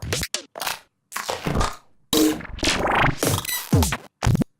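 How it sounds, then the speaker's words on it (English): Glitch percussion drum samples play as a run of short, choppy, crunchy bursts with abrupt cutoffs and gaps, stuttering and irregular, loud and without talk. "Next up, we have some glitch percussions."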